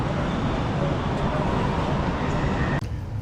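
Steady low rumble and rolling noise inside a moving train bound for Palma on Mallorca, continuous and fairly loud, dropping away abruptly near the end.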